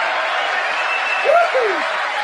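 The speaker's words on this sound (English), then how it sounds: "the applause and the hooting went for quite a while there" Audience applause during a live talk broadcast, a steady, moderately loud wash of clapping with brief hooting tones rising above it partway through.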